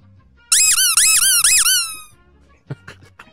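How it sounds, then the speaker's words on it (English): A rubber squeaky toy is squeezed several times in quick succession, each squeak loud, shrill and close. A few faint knocks and rustles follow once the squeaking stops. "Squeaky toy."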